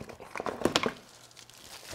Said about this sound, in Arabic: نفتح العلبة الآن ونشوف وش موجود عندنا بالداخل